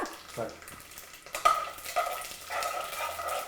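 A tempering of curry leaves and chillies is stirred in a hot pan, giving a soft crackling sizzle with scraping utensil strokes and a few sharper clinks, fairly close and moderately loud.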